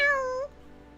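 A cat meows once in a video game, a single clear, close meow with a falling pitch that ends abruptly and is followed by quiet background.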